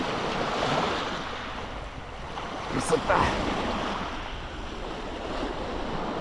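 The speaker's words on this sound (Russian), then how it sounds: "Финский залив." Waves of the Gulf of Finland wash steadily onto the shore after rain, a broad surf roar mixed with gusty wind buffeting the microphone, while a voice briefly speaks.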